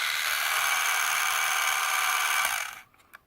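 A TrackMaster toy train engine, an early 2014 Arry or Bert model, whirs with a steady buzzing motor noise close by and then winds down and cuts out near the end, followed by a faint click.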